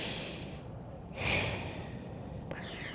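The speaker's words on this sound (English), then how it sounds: "Nice deep breath in. Nice deep breath out." Slow, deep yoga breathing, a single audible inhale or exhale swelling near the middle, close and soft against a quiet room.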